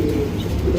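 A Meter Gauge Tirawal pigeon at a Bangalore loft gives a short, close, low coo that lasts under a second.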